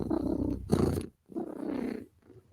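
A cat purrs close to the microphone in two rumbling bursts separated by a short pause, the rhythmic vibration moderately loud with no talking over it.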